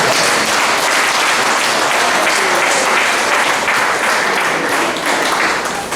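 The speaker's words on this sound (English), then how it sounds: "give yourselves a round of applause." A symposium audience gives a sustained round of applause, a dense, loud and steady wash of many hands clapping that holds evenly throughout and eases slightly at the end.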